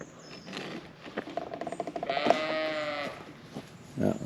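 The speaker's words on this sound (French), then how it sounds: "Et voilà, les petites biquettes." Several small young goats bleat in a few wavering cries at close range, with quieter rustling and another short bleat after a pause.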